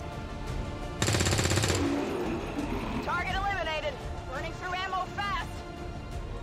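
Gunfire from XCOM 2 opens with a sharp, dense rapid burst of long-range shots lasting under a second, followed by quieter game effects and chirping tones, with someone talking over the scene.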